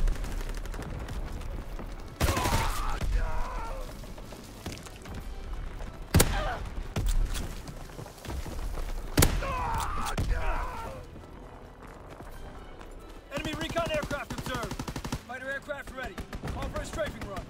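Gunfire from the World War II shooter game Call of Duty: WWII, with several loud, abrupt bursts of shots and explosions that break through near-constant talk and game audio.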